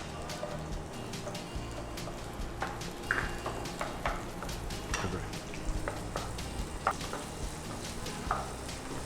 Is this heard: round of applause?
no